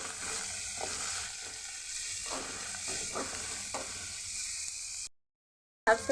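Bitter gourd fries in a pan with dried shrimp, salt and spices, making a close, steady sizzle with occasional stirring knocks, then a short silence and a brief return of sizzling.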